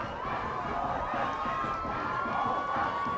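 A youth rugby crowd at an under-16 school match cheers and shouts in a dense, continuous roar with some singing tones, heard from a distance and steady throughout.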